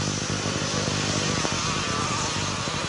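A red Honda 250 motocross motorcycle races in a 1989 Grand Prix heat in Czechoslovakia, its buzzing two-stroke engine whining steadily at high revs amid crowd and wind noise, moderately distant.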